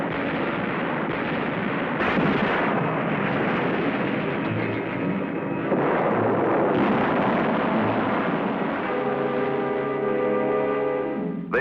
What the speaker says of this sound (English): Naval gunfire is damaging to the positions, but does little to reduce enemy personnel.